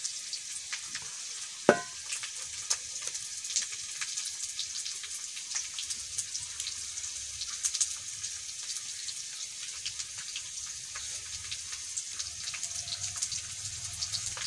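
Masala paste of spices and coriander powder mixed with water, sizzling softly in a hot pan while being stirred, a steady faint crackle with one sharper clink early on, no talking.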